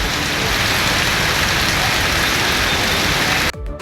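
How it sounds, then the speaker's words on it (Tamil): Heavy rain pours steadily during a thunderstorm in Maduranthakam, a loud, dense hiss with no break until it drops off sharply near the end. "இடி மின்னலுடன் கனமழை அரை மணி நேரம் எடுத்து வாங்கியது"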